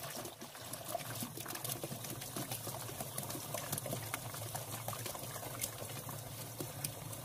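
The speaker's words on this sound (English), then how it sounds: "I'm gonna go ahead and fill this" Water pouring into an RV's fresh water tank, a continuous even trickling and gurgling flow, moderately close and low in level, with no voices.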